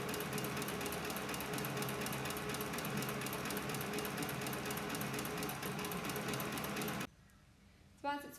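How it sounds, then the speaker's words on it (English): A CB4500 leather stitching machine winding thread onto its bobbin gives a steady, loud mechanical whir for about seven seconds, then stops abruptly, leaving near silence and a faint click. "press the accelerator pedal, and it'll wind the thread onto your bobbin"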